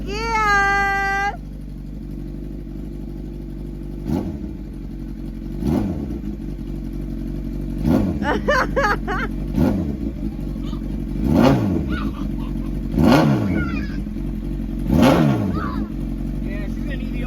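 A Honda CBR1000RR sport bike that crashed in a police chase, idling steadily with its coolant condition uncertain, then blipped through a series of sharp throttle revs that rise and fall, with people talking over it.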